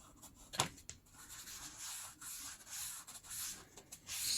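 Paper edges of a handmade vintage journal being distressed, a steady close scraping and rubbing texture with a few sharper strokes, continuous and alone without talk.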